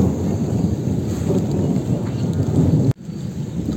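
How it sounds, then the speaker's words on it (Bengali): Rain during a thunderstorm, the first rain of the year in a village, with steady loud rainfall and deep rumbling thunder throughout, broken by a brief sharp dropout near the end. "বছরের প্রথম বৃষ্টিটা মানে একটু দূষিত হয়"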